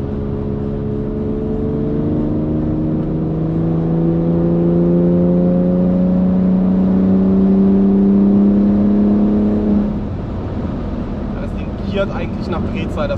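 A 750 hp BMW X3M Competition accelerating hard from inside the cabin, its engine note climbing steadily in pitch for about ten seconds before an upshift drops it back, with a loud, continuous drone and brief talk near the end.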